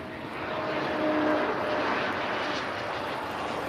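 An Embraer E195 airliner at Lisbon Airport produces a steady, moderately faint jet roar that swells slightly and then holds, heard from a distance with no voices.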